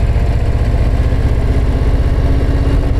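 A Harley-Davidson Low Rider ST motorcycle idling on a mountain pass road, its engine giving a loud, steady, low rhythmic throb close by, unbroken for the whole stretch with no talking.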